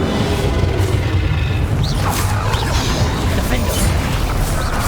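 In Hogwarts Legacy gameplay, a Confringo explosive fire spell goes off in a dense, continuous roar with booming crashes, and voices speak throughout.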